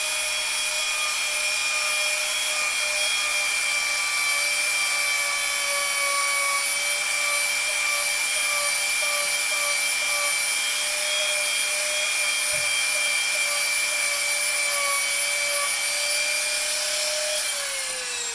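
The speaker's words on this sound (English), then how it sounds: "Take your stone barrel." A rotary tool spins a stone barrel bit against the rough edge of EVA foam, a close, steady high-pitched whine that holds for the whole stretch and drops slightly in pitch near the end.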